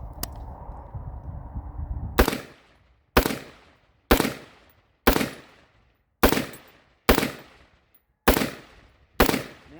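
A Wolf T91 upper rifle firing Winchester 5.56 M193 rounds outdoors at a range, eight loud, sharp shots spaced about a second apart, each with a ringing decay, after a stretch of background noise.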